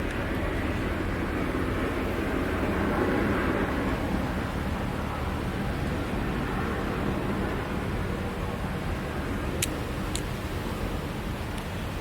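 A helicopter passing overhead outdoors, a steady broad rumbling roar that stays loud and constant throughout without talk.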